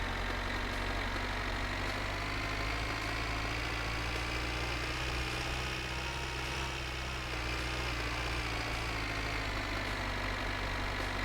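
A tractor engine runs steadily in the video game My Winter Car, a loud, continuous low idling drone with a rough mechanical rumble that holds constant throughout, with no talk over it.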